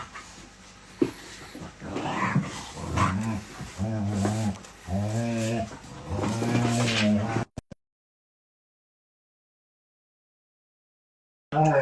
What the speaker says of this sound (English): it's not gremlins, it's two dogs play fighting